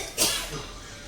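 A single short cough, close and fairly loud, followed by a brief softer breathy tail in a home setting.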